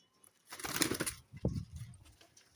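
Pigeons offered for sale flutter and shuffle close by, with a burst of wing flapping and rustling followed by softer scuffling and faint cooing, no voices.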